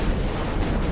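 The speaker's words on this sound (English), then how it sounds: "those things sound bigger than 11-inch guns" Naval artillery fire from large warship guns in the Ultimate Admiral Dreadnoughts game, a brief, heavy, rumbling boom with a deep low-end roll.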